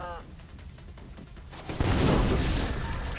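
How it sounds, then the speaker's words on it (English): Grenade blast in a video game: after a quieter stretch a loud burst erupts and rolls on with crackling debris and gunfire-like rattles, fairly close, with no clear talk. "That was a gorgeous grenade."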